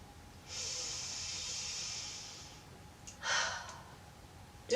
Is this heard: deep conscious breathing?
yes